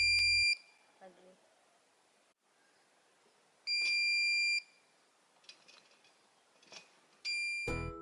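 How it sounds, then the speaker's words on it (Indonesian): An earthquake detector siren at a school sounds electronic alarm beeps in three loud, high-pitched bursts separated by pauses, with faint background noise and thumps between them. "Sirine ini dibuat untuk memperingati warga saat ada bencana gempa bumi"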